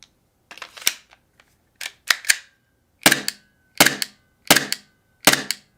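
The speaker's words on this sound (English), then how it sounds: "you get a recoil report every time you pull the trigger on one of these devices" A green gas blowback airsoft pistol firing with recoil: about seven sharp, loud, close cracks, some in quick pairs, each with a snappy metallic slide clack, spaced roughly evenly with short silences between.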